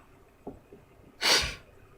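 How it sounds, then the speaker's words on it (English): Sniffling through a stuffy, congested nose: one loud, wet nasal snort near the mic, preceded by a couple of faint sniffs, with no talking. "I also got a stuffy nose. That's why I'm sniffling a lot."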